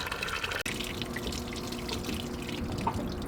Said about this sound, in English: You're basically going from city water through your rig and out into the bucket.